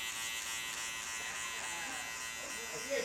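Electric hair clippers fitted with a 1.5 guard buzz steadily while cutting hair during a slicked-back fade, a close continuous hum with a few shifts in tone as the blade moves through the hair.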